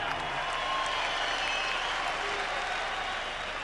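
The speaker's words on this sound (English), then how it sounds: "how about a big round of applause for the effort out of these 2 warriors in the ring" A boxing arena crowd in Las Vegas applauds in a steady, dense roar of clapping and cheering that fills the whole stretch without breaks.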